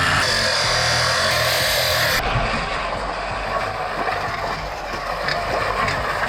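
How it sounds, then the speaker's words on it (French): An angle grinder cuts through a metal bracket beneath a car, a loud continuous harsh grinding roar that runs the whole time and shifts in tone partway through. "il me reste une patte en ferraille ici à découper avec ma meuleuse"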